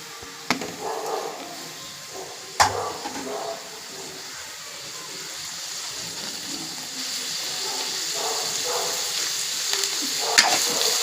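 Onions fry in a pan with a steady hiss and sizzle, occasional louder scrapes and knocks from stirring, close and moderately loud.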